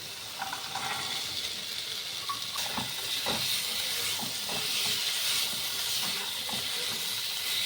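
Fried potatoes and green peas tossed into a pan of cooking spices for aloo matar, giving a steady, close sizzling hiss with scattered clinks and stirring scrapes throughout.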